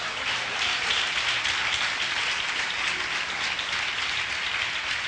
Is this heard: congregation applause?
yes